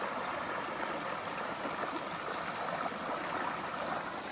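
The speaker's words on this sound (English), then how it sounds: "this is Thompson Brook coming down" Thompson Brook, a small wilderness stream, rushing steadily over rocks: a continuous broadband wash of water, close and even, with no voices.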